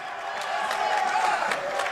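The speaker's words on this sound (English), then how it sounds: "Crowd got hyped there for a second" A basketball crowd at a prep school game rises in a brief burst of cheering and scattered applause after a play, a steady excited roar with a few whoops over two seconds.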